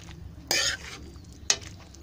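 A spoon scrapes twice through bean and potato sabzi with garam masala in a pan, close up over a faint background sizzle.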